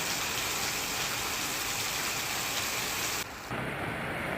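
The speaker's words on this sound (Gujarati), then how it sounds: "જિલ્લામાં ક્યાંક ધોધમાર તો ક્યાંક ધીમી ધારે વરસાદ થયો।" Heavy monsoon rain pours down steadily, a dense unbroken hiss of rainfall that briefly drops out near the end before resuming.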